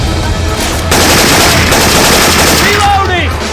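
Syphon Filter weapon sound effects firing in Left 4 Dead 2, loud sustained automatic gunfire in rapid continuous bursts, heavy and close, with a voice shouting briefly near the end.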